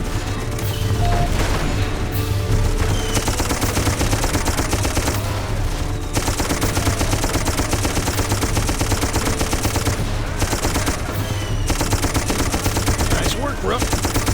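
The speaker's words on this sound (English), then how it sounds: "Get your ass on that gun and provide cover fire." Machine gun cover fire in the game Darkest of Days, loud sustained rapid bursts with short pauses between them, close and dominant, with faint voices underneath.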